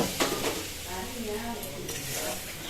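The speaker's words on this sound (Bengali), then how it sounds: "এখন একটু খুব সুন্দর করে মা এখানে নাড়িয়ে চাড়িয়ে নিচ্ছে" Soybean curry with spices and water being stirred in a wok, a close continuous sizzle with scraping spoon strokes against the metal over a short stretch, no talking.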